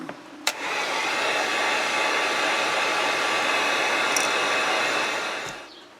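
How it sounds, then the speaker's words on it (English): Heat gun drying paint on a bumble bee pattern: a loud, steady whooshing blower roar that switches on with a click, holds for about five seconds, then winds down. "Now, going to take the heat gun. We're going to dry this really good before we move on."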